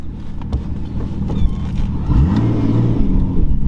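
A Nissan Skyline R34 engine revs up inside the cabin, its pitch rising and falling with acceleration, with some clicks and rattles nearby.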